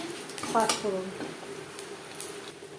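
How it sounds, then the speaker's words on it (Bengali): A bay leaf and five-spice tempering fry in hot oil in a kadai that was just used to fry fish, with soft sizzling and the clink of a utensil against the pan under a talking voice. "মাছ ভেজে নেওয়া কড়াইতে আবারও তেল দিয়েছি। ফোড়নে দিয়ে দিলাম একটা তেজপাতা"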